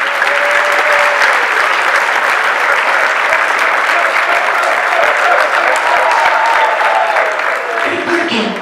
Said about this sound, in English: give yourselves a big clap up for an amazing week of giving.